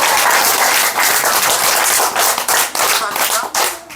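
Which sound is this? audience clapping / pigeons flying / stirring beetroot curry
audience clapping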